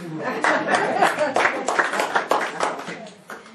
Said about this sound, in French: peut l'applaudir